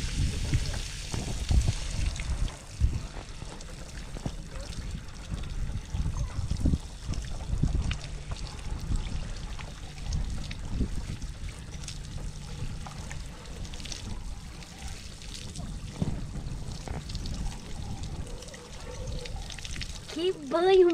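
Water pours and splashes steadily at an outdoor bathing spot by the Paraná River, with a person talking over the continuous flow.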